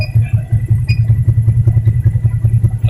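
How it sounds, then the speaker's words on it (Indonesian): A Yamaha Vixion motorcycle engine idles close up in a workshop, its steady, fast, chugging pulse even and loud over a light mechanical clatter, with no voices. "putaran mesin"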